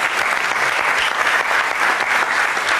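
A studio audience breaks into steady, dense applause on a German talk show, loud and continuous clapping throughout with no pause.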